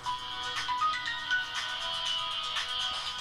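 A phone ringtone plays during a car mechanic simulator live stream, a steady pulsing electronic tone repeating in short bursts at moderate volume with no talk over it.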